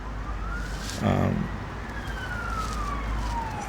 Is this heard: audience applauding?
no